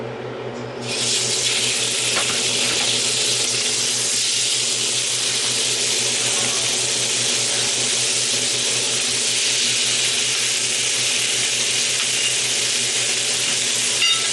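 Steak hits a hot pan with a sudden loud sizzle that settles into a steady, dense crackling hiss, continuing without pause.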